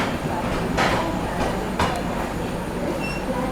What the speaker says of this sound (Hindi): बाकी 5 नंबर प्लेटफॉर्म से अपना डिपार्चर हुआ है अपनी महाराष्ट्र संपर्क क्रांति का।